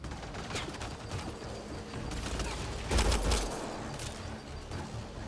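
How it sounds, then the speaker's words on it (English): Sustained gunfire in the video game Mass Effect Andromeda, a dense continuous fusillade with a heavier burst near the middle, steady and fairly loud. "Just keep firing, we can do this!"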